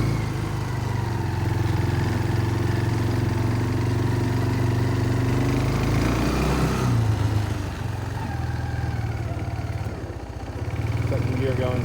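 A Kawasaki Bayou 220 ATV engine putters steadily at low speed in second gear, a close, even mid-pitched drone that dips briefly and then resumes.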